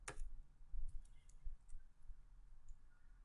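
Quiet, irregular clicks of computer keyboard keys come as a short command is typed, with scattered taps spaced through a calm room.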